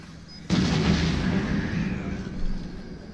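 A remote bomb goes off in Resident Evil 7, a sudden loud boom that kicks in abruptly, followed by a sustained rumbling roar that slowly fades over a few seconds.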